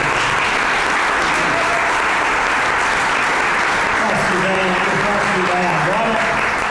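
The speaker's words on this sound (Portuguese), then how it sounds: "Portanto, palmas para eles." Audience applause at a priest's book launch, a continuous dense clapping from a crowd that holds steady throughout, with voices murmuring underneath toward the end.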